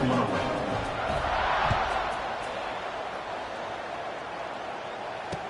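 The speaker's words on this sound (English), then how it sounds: "this crowd now ready to get behind them" Stadium crowd noise in a college football video game, Middle Tennessee against Kennesaw State, a broad roaring wash that swells early then eases to a steadier murmur.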